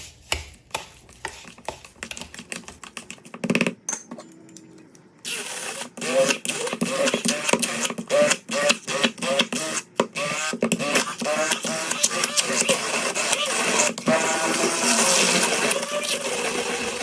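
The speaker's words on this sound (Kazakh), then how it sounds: "Одан кейін жақсылап блендердің көмегімен езіп аламыз." Hand blender mashing cottage cheese in a bowl, first in short stuttering bursts, then a longer rough grinding whir with rapid clattering as the blade works the thick mass, no talk.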